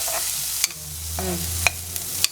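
Onions sauté in hot oil in a pan for butter beans poriyal, a steady background sizzle broken by a few sharp scrapes and taps of a spatula.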